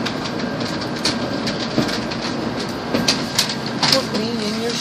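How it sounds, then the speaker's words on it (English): Steady rumble of a Shinkansen bullet train bound for Hiroshima, heard from inside the carriage as a constant broadband hum with faint rhythmic clicks and a few brief louder knocks; a voice murmurs beneath. "just rolled out of bed and onto the Shinkansen bound for Hiroshima"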